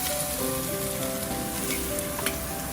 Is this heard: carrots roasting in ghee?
yes